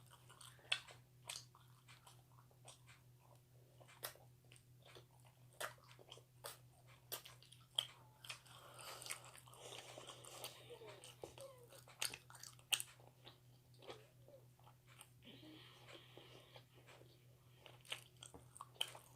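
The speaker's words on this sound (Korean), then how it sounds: "미니도 한 입 먹어볼게요." Close, quiet ASMR chewing and biting of Korean snack-bar food, with soft crunches and wet mouth sounds repeating irregularly over a steady low hum.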